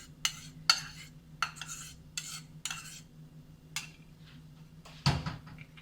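Noodle sauce being mixed in a pan, with a series of sharp utensil clinks and scrapes against the pan at irregular intervals, closing with a louder clatter, over a faint background hum.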